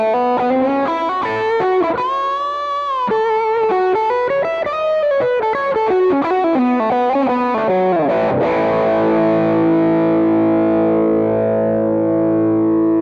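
An electric guitar played through a Tomsline Shaper with a Fender Twin Reverb 2x12 cabinet simulation plays a heavily distorted, fast riff, then strikes a final chord that rings out and slowly fades.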